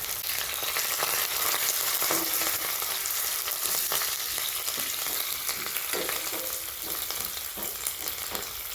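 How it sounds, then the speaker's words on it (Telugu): Crushed garlic, cumin, mustard seeds, fenugreek, dried red chillies and curry leaves fry in hot tempering oil for spinach dal, a loud, dense, continuous sizzle close by with faint stirring clicks. "వెల్లుల్లి కలర్ చేంజ్ అయ్యేదాకా ఫ్రై చేసుకోవాలి."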